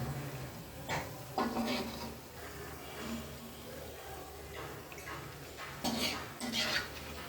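Palm fritters (tal bora) frying in oil in a pan, with a steady soft sizzle under occasional clanks of utensils against the pan and intermittent talking nearby.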